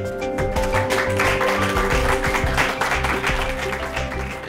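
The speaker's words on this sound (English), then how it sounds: "I think we should all give yourselves a round of applause too." An audience at a city open-data design jam claps in a dense, sustained burst of applause that slowly thins toward the end.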